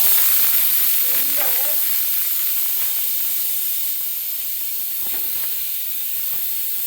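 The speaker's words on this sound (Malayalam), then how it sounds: "കുറച്ച് വെള്ളം ഒഴിച്ച് ഞാൻ അടപ്പത്ത് വെച്ചേക്കാണ്" Water poured into a hot pan holding coriander powder sends up a loud, continuous steamy hiss that slowly eases off, with a faint brief voice early on.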